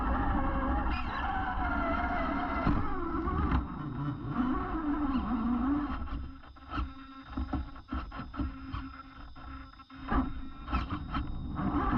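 A FlubRc 1/10 scale hard-body RC car drives over rough ground at a quarry, its electric motor whining and rising and falling in pitch as it revs, over crunching and scrabbling tires, close and continuous.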